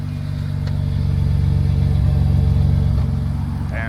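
A BMW E46 M3 with a catless exhaust and Euro headers idles and revs nearby, its steady deep engine rumble swelling slightly in the middle, loud throughout with faint voices in the background.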